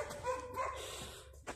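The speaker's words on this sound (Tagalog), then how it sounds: "Kaya lang may aso." A dog gives a few short, faint barks and yips at a distance inside an old sanatorium complex in Tskaltubo, Georgia, brief and fairly quiet.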